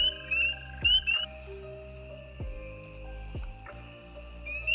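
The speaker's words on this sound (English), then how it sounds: "whenever the American toads come out for their breeding season" American toads call from nearby in breeding season, with sustained tones and a few sharp croaks and clicks standing out over a steady background chorus.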